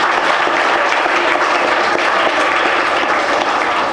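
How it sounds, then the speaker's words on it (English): Students in a school assembly applaud a classmate, a dense, steady wash of many hands clapping at once, loud and close, filling the whole moment without any talk. "let's clap for her."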